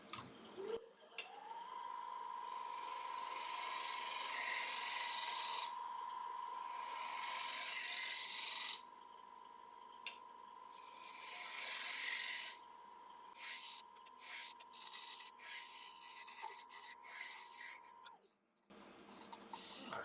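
Small scraper on a lathe smoothing an applewood bowl, a steady whining hum with long rasping, scraping passes that come and go, close up and fairly quiet.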